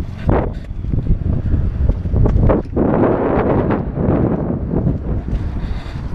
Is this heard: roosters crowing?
no